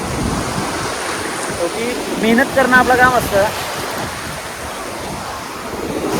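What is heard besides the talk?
sea waves crashing in stormy weather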